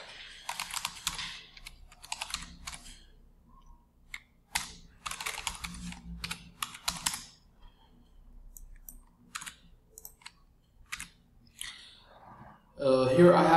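Computer keyboard keys typed in quick irregular bursts while entering an email address and password at a desk, close and clear, with short pauses between runs and a louder rustle at the end.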